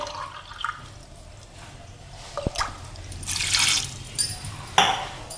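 Water is poured from a glass onto about 300 grams of dry pasta in a bowl for microwave boiling, making intermittent splashes, trickles and drips at close range.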